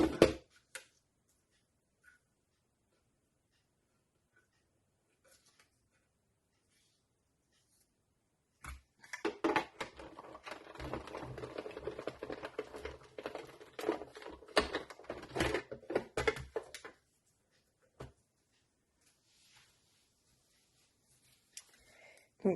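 Christmas-themed cutting dies from Action being run through a die-cutting machine, a dense crunching and whirring burst lasting several seconds in an otherwise quiet room, with a few faint clicks before and after.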